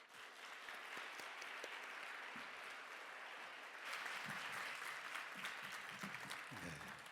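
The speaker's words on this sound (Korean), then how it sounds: "우리 나오실 때 박수로 환영하시겠습니다." A seminary chapel congregation gives a steady, continuous round of applause to welcome a pastor. The clapping swells slightly partway through, and faint voices come in near the end.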